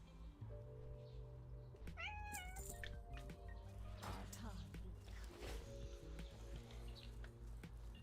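A stray mother cat and her kittens meow repeatedly near a warehouse, thin rising cries over a steady low hum, with voices talking faintly in the background.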